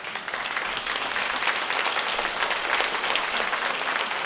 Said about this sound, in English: Thank you both for your giving them a round of applause.